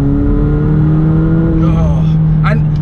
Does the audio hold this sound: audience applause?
no